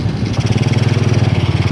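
A Honda Karisma motorcycle engine with a fault that makes it stall, running loud and close in a fast, steady pulsing throb as the throttle opens.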